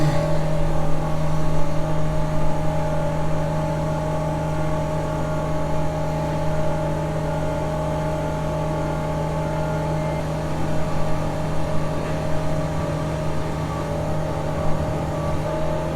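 A truck engine revs during an unload into a bin, holding a loud, steady, high mechanical drone close by for the full stretch, with a constant tonal hum and no talk.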